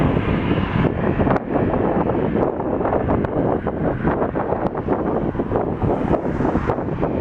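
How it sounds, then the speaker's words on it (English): Wind at Toronto Pearson airport buffets an outdoor microphone, a loud, continuous low roar with rough gusting surges and no voices. "Wind is picking up."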